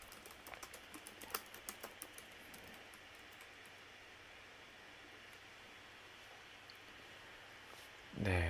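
A quick run of light, close key clicks on a computer keyboard while logging in to a desktop app, then a long stretch of quiet room hiss.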